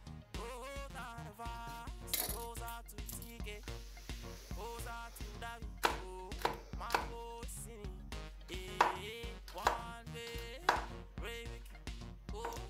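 A knife slices garlic into small pieces on a board, giving repeated sharp taps of uneven rhythm over soft background sound.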